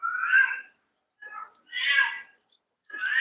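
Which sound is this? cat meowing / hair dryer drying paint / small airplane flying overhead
cat meowing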